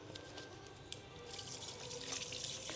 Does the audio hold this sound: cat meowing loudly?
no